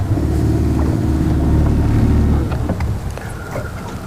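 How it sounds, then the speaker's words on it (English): Low, droning motorboat engines rumble steadily, then fade slightly as the boats move on, with a faint splash of water and no voices, on a rainy day. "Quite a few boats out today"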